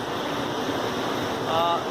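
Rough ocean waves surge in the Roaring Forties aboard a ship on the way to Antarctica, a loud continuous roar of water and wind for a couple of seconds.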